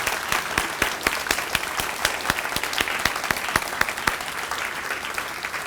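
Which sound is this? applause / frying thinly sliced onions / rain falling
applause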